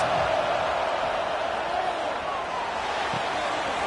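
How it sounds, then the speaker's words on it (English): A football stadium crowd roars loudly and steadily, a dense, continuous wall of cheering that fills the whole stretch without letting up. "Listen to this crowd just shaking the girders of this place, trying to help their defense."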